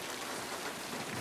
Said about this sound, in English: Gee, I'm sorry I didn't hear you in all this rain.